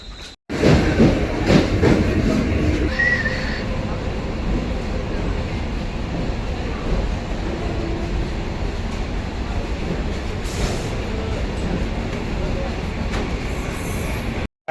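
A train runs through a Mumbai-area suburban station, a loud continuous rumble and rattle of carriages on rails that fills the whole stretch, with some voices mixed in.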